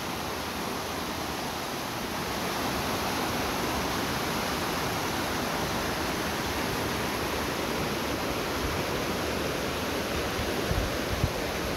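Steady broadband rush of a river flowing beneath a hammock suspension bridge in Joyabaj, Quiché, continuous and even throughout with no voices.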